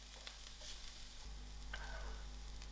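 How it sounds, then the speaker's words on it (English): Chopped garlic and black pepper fry in a pan and are stirred until soft, giving a soft, steady sizzle with faint scraping throughout. A low hum runs underneath. "I will mix this till my garlic is soft"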